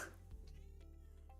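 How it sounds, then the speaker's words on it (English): Kita the cat gives a short, faint meow indoors, a brief soft call in a quiet room with low background hum. "Hi, Kita. Are you meowing at me?"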